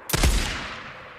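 A single loud gunshot in the video game Days Gone cracks sharply, then a long echoing decay fades away.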